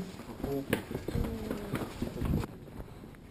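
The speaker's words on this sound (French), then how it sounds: "Oh, un chevaux." Horse hooves clip-clop on pavement at a market in Huy, Belgium, a run of sharp close knocks heard beneath people talking nearby.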